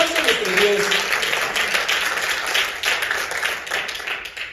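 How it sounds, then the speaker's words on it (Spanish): Church congregation applauding in a worship service, broad sustained clapping that swells at first and slowly thins, with voices faintly mixed into the crowd noise. "Deben un fuerte aplauso a nuestro Dios."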